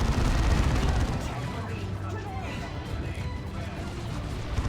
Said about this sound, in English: A Dire Avenger squad tries to get on the victory point, and they just get nuked by the Assault Cannon Barrage.